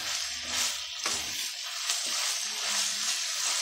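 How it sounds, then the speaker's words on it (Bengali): Minced chicken and softened onions crackle and sizzle in a frying pan while a spatula scrapes and turns them in short strokes. The frying is close and fairly quiet, and no one speaks. "ভালো করে মিশিয়ে নেব।"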